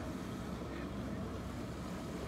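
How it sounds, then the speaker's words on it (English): Outboard 115 engine droning steadily as a boat strains to tow the remains of a wrecked hull through water toward a boat ramp, with wind buffeting the microphone throughout. "I'm not sure you realize how difficult it is until you watch this 115 engine try to pull it through the water."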